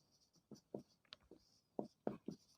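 Chalk or marker scratching on a classroom board during a physics lesson, a series of short, close strokes with brief pauses between them and no talking.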